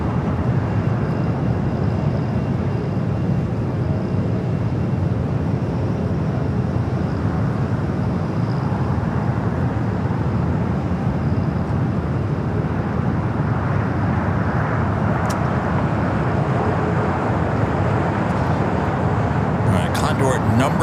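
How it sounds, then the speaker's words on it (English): An Airbus A380 jet rolling for takeoff on runway 25 right at LAX, a broad continuous engine roar from a distance, with a commentator talking over it throughout. "The Munich flight, the A380 Super heading up there to the north side."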